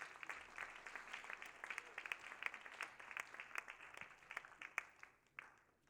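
Audience at a French-language church pre-conference service applauds a helper, a faint, steady patter of many hands clapping at a distance that thins out toward the end.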